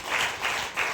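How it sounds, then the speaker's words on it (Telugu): A church congregation claps loudly in a dense burst that swells and eases in three quick surges, with no voices standing out. "చప్పట్లు కొట్టండి"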